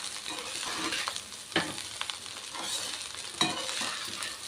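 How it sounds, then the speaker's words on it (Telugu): Chicken fried rice stirred and tossed in a pan over high flame, steady loud sizzling with a couple of sharper scrapes of the utensil, close up and without talk. "ఇలా మిక్స్ చేసుకునేటప్పుడు మంట అనేది హై ఫ్లేమ్లో పెట్టుకోవాలి"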